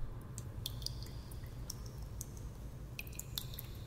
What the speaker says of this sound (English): you can hear that cave dripping